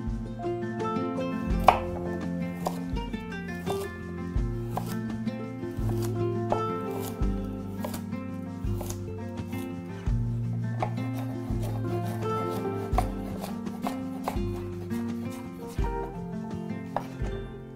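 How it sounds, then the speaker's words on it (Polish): Knife chops a large carrot into strips on a board, a fast run of close crisp taps with short pauses between bursts, clear and alone with no talk. "I jedna duża marchewka pokrojona w paski."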